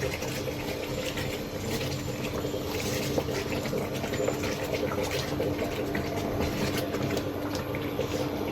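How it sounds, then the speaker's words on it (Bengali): Beef handi kebab boils in an open pot, a steady thick bubbling and sputtering that goes on without a break, close and alone. "দেখেন কিভাবে খলবলিয়ে ফুটছে"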